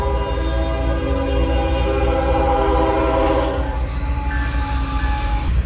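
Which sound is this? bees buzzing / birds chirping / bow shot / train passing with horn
train passing with horn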